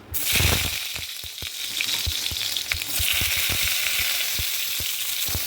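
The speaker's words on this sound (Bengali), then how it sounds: "অল্প করে তেল দিয়ে পটলটা আমি একটু ভেজে নেব।" Pointed gourd (potol) pieces frying in a little oil in a wok, a loud, continuous sizzle with occasional crackles and pops, close by and alone without any talk.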